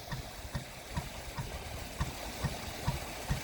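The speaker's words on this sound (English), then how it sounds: "You hear the motor going." A canal boat motor chugs steadily at idle, a low rhythmic knocking thump repeating about twice a second under a constant engine drone, heard fairly faint and without talk.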